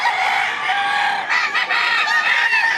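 Gamecocks at a fighting-cock market in Lipa, Batangas cluck and crow continuously, several birds loud and close together with overlapping calls.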